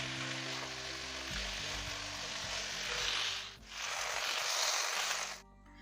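Food sautés in a pan over a high flame while a squid roast is being cooked. A loud, steady sizzle is broken by stirring scrapes and a brief dip, then it cuts off abruptly at the end.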